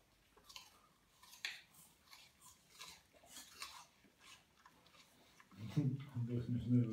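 An Akita Inu puppy chews an apple, making soft, close, irregular crunches and bites, followed by someone speaking near the end.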